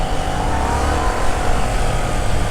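A Honda NC750X motorcycle engine held at about 4,000 to 5,000 rpm, a loud, steady, close-up drone that barely changes across the short stretch, with no voices.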